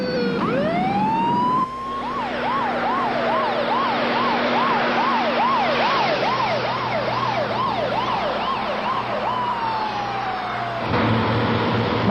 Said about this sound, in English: ambulance coming down the other side